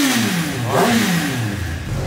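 A Kawasaki ZX10 motorcycle engine revs up close and loud in a showroom, the pitch climbing through a throttle blip and then settling back to a throaty idle.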